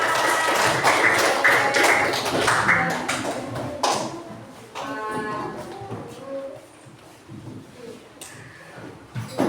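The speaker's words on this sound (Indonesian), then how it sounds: "Ya, tepuk tangan." Students clap in a fifth-grade classroom after a classmate's presentation: dense, loud clapping for about four seconds, then it thins into scattered claps and room murmur.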